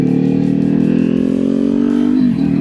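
A motorcycle engine revs high in a steady sustained drone, loud and close, then its pitch drops briefly near the end as the revs fall.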